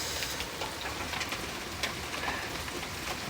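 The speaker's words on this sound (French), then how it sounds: "c'est de la pluie traction mais de la grêle, hein." Heavy rain mixed with hail pours down during a strong thunderstorm in Ille-et-Vilaine, a dense steady roar with scattered sharp impacts rising above it, close and continuous throughout.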